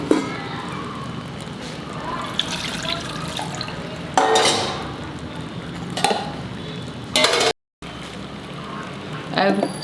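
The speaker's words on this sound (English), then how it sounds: "I have washed the mixie with some water." Water runs and splashes while a mixer grinder jar is rinsed at a kitchen sink, a steady wash of flow with occasional clinks of the jar, and a voice speaking over parts of it.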